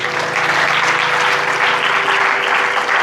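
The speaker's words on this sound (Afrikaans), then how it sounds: "Kom ons gee 'n hande klap vir die Here." A church congregation clapping for the Lord, a dense, steady roar of many hands applauding together, loud and sustained throughout with no break.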